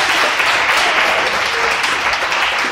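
A church congregation applauding during a sermon, a loud dense wash of clapping from many people, steady and continuous throughout.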